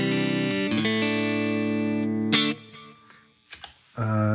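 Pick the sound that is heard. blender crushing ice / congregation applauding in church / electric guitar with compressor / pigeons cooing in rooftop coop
electric guitar with compressor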